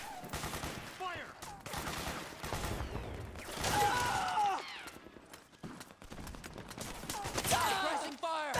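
Gunfire fills a battle in the video game Metal Gear Solid 4, with dense, repeated bursts of shots and rattling volleys, loud and close. Voices shout over the shooting at points.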